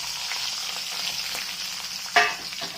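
Pre-fried potatoes and crisp elephant-foot yam pieces sizzle in a pan with black cumin, a steady close hiss broken by a sharper burst of spattering near the end as ingredients are stirred in.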